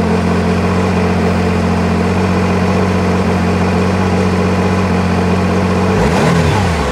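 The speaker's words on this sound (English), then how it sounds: "This is a turbocharged inline three cylinder, which means it takes a little bit more to get going" A Ford Maverick R's turbocharged inline three-cylinder engine idles steadily and close, then revs briefly near the end with a quick rise in pitch.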